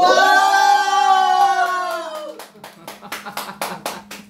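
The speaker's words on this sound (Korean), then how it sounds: "이런 얘기하면은 막 박수가 나와야 돼" An audience at a health lecture gives a brief burst of applause. A loud, drawn-out vocal cry comes first, then a scattered ripple of hand claps rises and continues close by.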